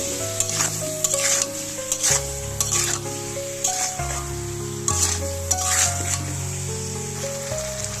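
A ground paste of ginger, garlic and cumin frying in oil in a pan for a fish curry, with a steady bright sizzle and repeated rhythmic stirring scrapes, close and loud, no talk.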